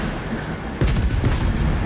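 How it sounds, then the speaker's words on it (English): Naval battle in World of Warships with torpedoes and ship gunfire: a steady rumbling bed of noise broken by a sudden heavy boom and several following blasts, moderately loud. "here come the torpedoes"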